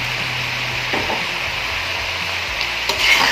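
Minced keema cooking with kachnar buds and yogurt in a pan, a steady sizzle under soft scraping and stirring, with a brief utensil clink near the end and no talk.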